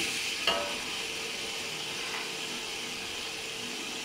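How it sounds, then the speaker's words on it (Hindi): Beef pieces go into frying masala for a desi-style beef pulao, giving a quiet, steady sizzle with a brief clatter near the start and a faint scrape later. "अब इसमें हम गोश्त डाल देंगे।"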